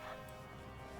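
A single short dog yip sounds near the start over steady ambient noise in a dog cafe in World of Warcraft, and a second bark begins right at the very end.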